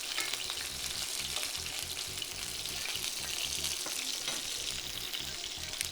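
Salmon fillets sizzle steadily in hot oil in a pan for a teriyaki glaze, a dense, continuous frying crackle, close and even, with no voices.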